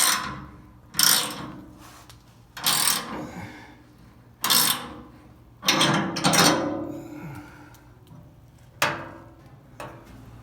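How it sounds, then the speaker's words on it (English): A wrench ratchets to tighten the rear gas tank mounting under a 1967-72 Chevy C10 pickup, a series of about six loud close bursts of clicking ratchet strokes separated by short pauses. "he's finishing up, tightening that up"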